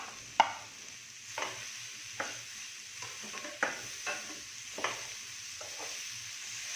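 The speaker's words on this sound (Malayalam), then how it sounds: "അരിഞ്ഞു വെച്ച പീച്ചിങ്ങയിട്ട് എല്ലാം ഒന്ന് നന്നായി ഇളക്കി യോജിപ്പിച്ചെടുക്കണം." A spoon stirs chopped ridge gourd in a frying pan for a thoran, making soft scraping strokes about once a second over a faint, quiet sizzle.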